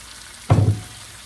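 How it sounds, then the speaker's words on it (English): Squash cooking in a crowded pan over fairly high heat in bacon grease and butter, giving one short, loud sizzling burst that fades quickly back to a low background hiss. "we're just gonna let that cook down into the bacon grease and the butter"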